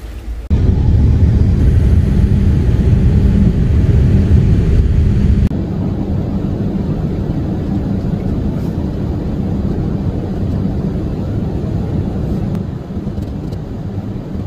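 A steady, loud roar of an airplane engine fills the whole stretch, heavy and low, easing slightly after a few seconds but continuing without pause or voices.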